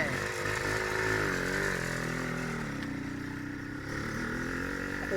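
A Suzuki TS 125 ER motorcycle engine runs steadily nearby at a fairly even idle with slight rev changes, a continuous buzzing two-stroke drone.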